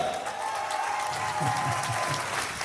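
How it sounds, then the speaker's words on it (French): Applause from the audience at an event of a singing association, a steady wash of clapping that sounds a little distant, with a faint sustained tone and some low murmuring underneath. "Faites un peu d'applaudissements"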